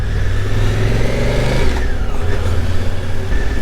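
A motorcycle engine runs loud and close, its pitch rising with the revs before it settles back to a steady drone.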